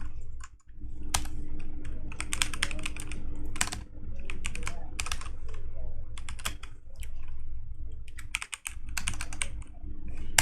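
Steady rapid typing on a computer keyboard while writing JavaScript code, with dense bursts of clicking keys running throughout and a low hum underneath, no speech.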